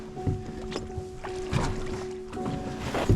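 Paddles dip and pull beside a RIB boat on an Irish inland waterway, a few uneven splashing strokes close by over a steady engine-like hum and light wind.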